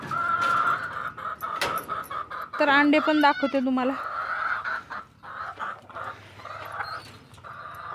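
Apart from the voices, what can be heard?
chickens clucking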